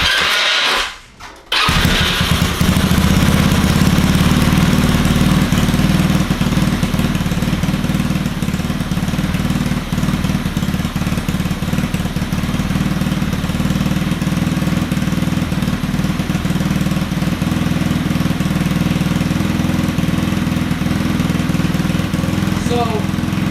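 A Honda Ruckus scooter fitted with a Chinese GY6 motor catches after a brief crank, then runs loud and close with a steady, buzzy idle for the rest of the clip.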